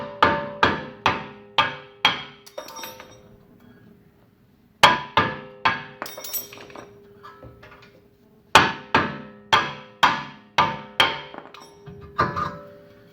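Sharp metallic hammer blows on a rusted wheel hub come in three quick runs of five or six evenly spaced strikes, separated by short pauses, close and with no talking.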